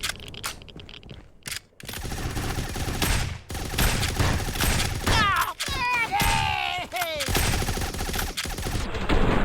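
Bursts of rifle fire in the online game Fallout 76 come in rapid, loud volleys broken by short gaps, with whooshing and ricochet-like sweeps mixed in and a voice briefly talking underneath.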